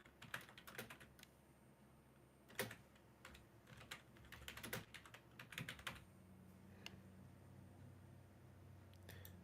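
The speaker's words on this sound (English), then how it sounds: "You can hear them. You can hear us typing." Rapid computer keyboard typing in irregular bursts of sharp clicks over a quiet room hum, fairly faint with no one talking.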